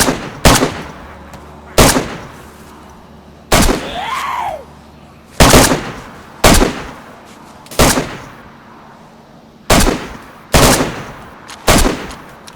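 Loud, close gunshots ring out in the survival video game DayZ while a mummy is being fired on, about a dozen sharp reports at irregular intervals, each with a short echoing tail.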